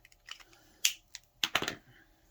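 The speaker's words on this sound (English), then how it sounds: "So I need to cut that little edge off" Small cuts trim a thin edge off a journal page, a few sharp, close snips and clicks in a quiet room, with a short burst of rapid cuts near the end.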